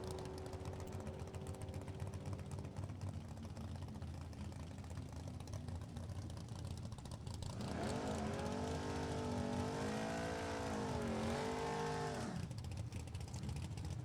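An NHRA top fuel dragster makes a drag racing run, a constant loud roar that gives way to a strong engine tone rising and falling for about four seconds before settling back.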